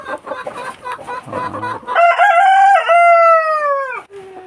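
Rhode Island chickens on a backyard free-range farm, a close burst of clucking followed by a loud, drawn-out rooster-like call that rises and falls, heard alone without talk.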